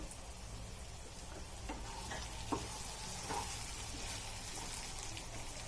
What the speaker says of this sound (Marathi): हा मसाला पण तेल सुटेपर्यंत फ्राय करूया